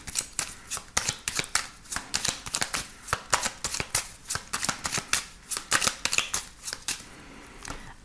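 A 32-card deck being shuffled in steady, rapid riffles, crisp papery bursts repeating close and clear throughout with no talking.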